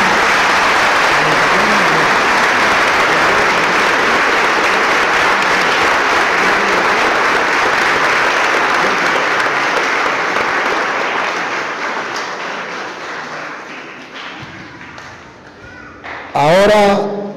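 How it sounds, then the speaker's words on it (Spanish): Church congregation applauding for Gabriel after a baptism blessing, a dense, loud, sustained wash of clapping that slowly thins and fades near the end, with a voice rising briefly at the close. "Aplauso para Gabriel."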